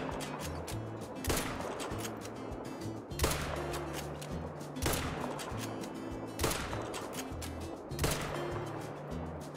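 Rifle shots fire while hunting a mallard in the hunting video game Call of the Wild, several sharp reports spaced at a fairly even pace over a steady bed of ambient game sound.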